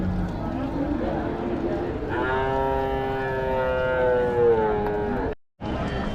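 At a Friday cattle market in Uthangarai, one cow lets out a long, drawn-out moo in the middle of the clip, with constant crowd and market bustle around it and voices mixed into the background.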